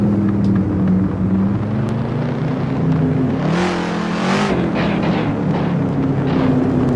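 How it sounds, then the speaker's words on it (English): A steady car engine drones throughout, its pitch rising and shifting midway as if accelerating, loud and continuous with no voices. "I'm not sold on the engine sound."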